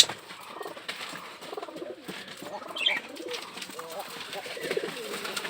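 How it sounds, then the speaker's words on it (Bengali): Pigeons kept on a farm coo softly at close range, their low throaty calls repeating under faint murmuring voices. "কবুতরগুলো দেখেন কাছ থেকে, কবুতরগুলো কত সুন্দর।"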